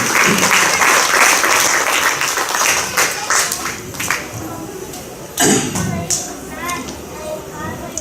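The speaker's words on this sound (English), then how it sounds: "let's begin with a big round of applause for all of them." Crowd applause fills the space, a dense steady clapping that swells again near the end, with voices mixed underneath.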